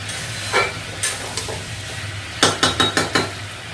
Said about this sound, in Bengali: এটা একটু আমি ঢাকা দিয়ে দিয়ে ভাজবো, যাতে আলুটাও ভাজা হয় আর সেদ্ধ হয়ে যায়।